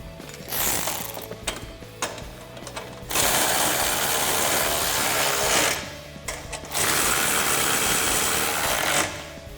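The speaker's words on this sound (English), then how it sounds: "you go ahead and tighten these down, and it'll help line these holes up better" Ratchet tightening the bolts on black drop-side nerf step bars for a Tacoma truck, heard as rapid metallic clicking in repeated bursts that are steady and fairly loud, separated by brief pauses, with no voices.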